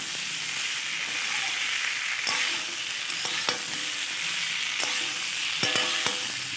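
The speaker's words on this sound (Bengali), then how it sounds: "এবার আবারও খুব ভালোভাবে নেড়ে চেড়ে আলুর সাথে মশলা কষিয়ে নেব।" Fried potatoes are stirred with spices in a pan for aloo dum, giving a steady sizzle and hiss with scattered scraping knocks of the spoon against the pan, close and continuous with no talk.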